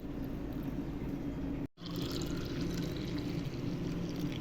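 Crushed watermelon juice poured through a strainer, a steady close trickle and splash running continuously apart from one brief break in the middle.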